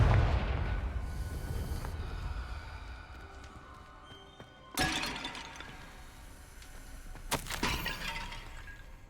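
A Confringo blasting spell in Hogwarts Legacy strikes with a sharp explosive crack and shattering burst, followed by a second blast a few seconds later, over a low game ambience.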